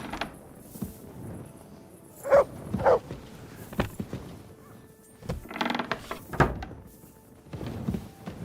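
A dog in the medieval game Kingdom Come: Deliverance II gives a few scattered barks amid creaking, clunking mechanism and door noises, loud and close with quiet gaps between.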